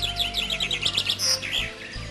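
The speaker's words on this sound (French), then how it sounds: "les chants des oiseaux résonnent de tous côtés" Birds in the Côtes d'Armor countryside, in a blue tit habitat, sing with rapid repeated high chirps and trills close by, several calls overlapping in a busy outdoor chorus.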